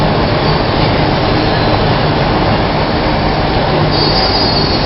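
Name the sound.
long train passing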